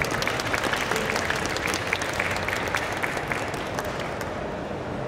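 An audience at a Japan Expo manga conference applauds a guest speaker being welcomed, a dense, loud wash of clapping that holds steady for several seconds before starting to thin out at the end.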